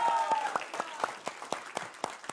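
Studio audience applause closing a Hindi TV debate show, a steady burst of clapping with rhythmic, spiky peaks running throughout at moderate loudness, with a faint voice briefly audible near the start.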